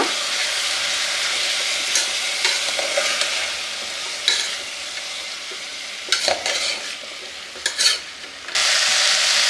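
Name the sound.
stirring and mixing curry ingredients in a pan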